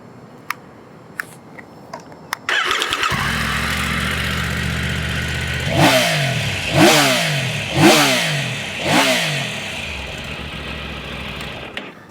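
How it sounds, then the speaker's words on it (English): A Triumph Tiger 900 GT motorcycle engine cranks and catches, then idles steadily before being revved four times in a row, each rev rising sharply and falling away, loud and close. "you really feel it when you're revving the engine"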